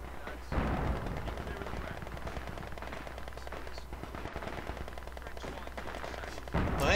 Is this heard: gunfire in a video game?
yes